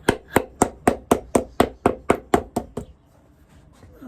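A hammer knocks on the welt of an Alden Indy leather boot, eleven sharp, evenly spaced blows up close, with the last few getting softer before quiet handling sounds follow.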